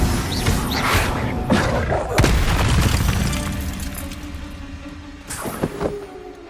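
An Incendio fire spell in a Harry Potter video game erupts with a loud, rumbling whoosh and booming thud, followed by a sustained roar that fades, then a second sharper burst near the end.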